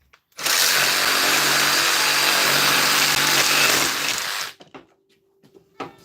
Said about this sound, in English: we're going to freehand the fade up like this with the jigsaw